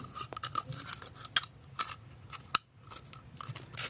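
Scissors snip through a plastic Yakult bottle up close, sharp irregular crunchy cuts and clicks with short pauses between, no talk.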